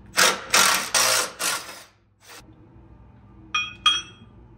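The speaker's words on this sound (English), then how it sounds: "Now we're just gonna remove the fairlead." Metal parts clink and rattle as a winch fairlead is unbolted on a Ford Bronco, several loud scraping bursts early, then two sharp, ringing clinks after a quiet stretch.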